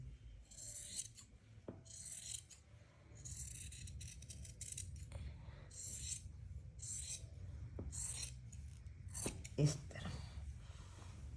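Scissors cut through a fabric strap for a reversible patka, making close soft snips and rustling in short bursts. A low room rumble runs underneath, with a few sharper clicks near the end.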